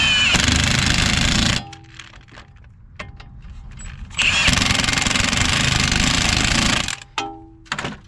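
Power tool tightening strut bolts on a 1996 Toyota Camry during wheel bearing and drive axle work: two loud, sustained, rattling bursts of an impact tool, separated by a quieter gap with clanks and short noises.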